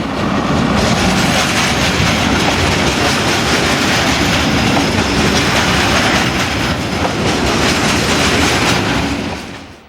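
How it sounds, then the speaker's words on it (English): Diesel locomotive 75038 in Ghost livery hauling a freight train bound for the port complex at Fos-sur-Mer, passing close and loud with dense rumbling wheel noise and rapid rhythmic clatter of wagons, fading at the very end. "Diesel number 75038 in the Ghost livery heads a train bound for the port complex at Fos-sur-Mer"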